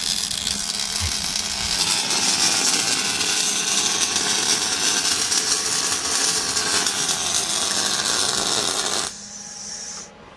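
Steady, loud buzzing and crackling from welding on the rear suspension housing of a 1968 Barracuda drag car runs continuously for about nine seconds, then cuts off, leaving quieter shop noise.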